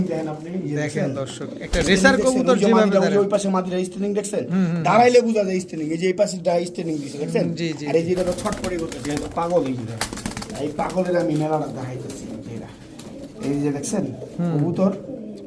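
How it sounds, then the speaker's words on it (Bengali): Racing pigeons coo repeatedly in low, rolling calls, close by, while someone talks over them throughout. "এই যে ভাই দেখাই আমি কবুতর এগুলা"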